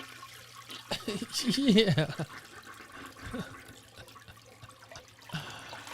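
A toilet flush sound effect played during a live stream: a short gurgling rush of water that fades into a trickle, with a voice briefly heard.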